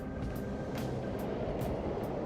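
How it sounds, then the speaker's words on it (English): Subway trains running in the video game Persona 5 Royal make a steady, low rumble with faint rhythmic clacks above it. The noise stays constant and moderately distant for the whole stretch, with no voices. "The trains are totally running!"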